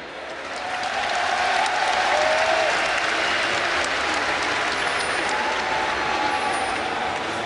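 Esports audience at Gamescom claps and cheers for SK Gaming at a League of Legends match, a dense, steady wall of applause rising quickly and holding strong throughout.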